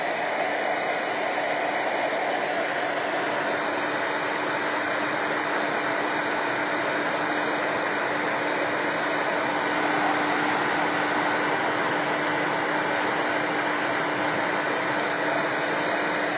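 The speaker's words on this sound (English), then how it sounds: "This is just a heat gun." Handheld heat gun drying paint on painted metal Aztec earrings, a steady loud whooshing blower hiss with a constant motor tone, running unbroken for the whole stretch.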